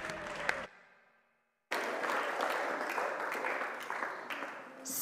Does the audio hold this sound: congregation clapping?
yes